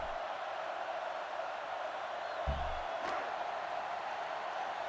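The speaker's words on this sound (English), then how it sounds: "A loud crowd here tonight in Wyoming." Stadium crowd noise in a football video game, a steady loud wash of cheering and roar under the action, with a brief low thump partway through.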